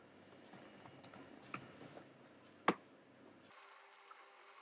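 Computer keyboard keys tapped in a short, uneven burst of quiet clicks while a command is typed, followed by one sharper, louder keystroke like Enter, then near silence.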